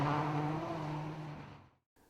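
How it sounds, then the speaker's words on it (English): Ford Escort Cosworth rally car at a forest rally, a loud engine note with strong steady harmonics that fades over about a second and a half before cutting to near silence. "This is an Escort Cosworth"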